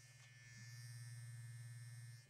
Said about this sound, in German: das ist dieser komische Rasierer, der vibriert